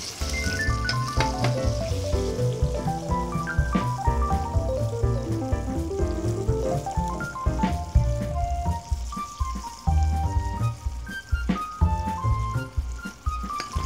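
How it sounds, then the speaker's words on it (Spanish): Steady, busy sizzling and crackling of KFC-style chicken strips frying in hot oil, close and continuous with bubbling pops throughout. "estoy terminando de freír las tiras de pollo al estilo KFC"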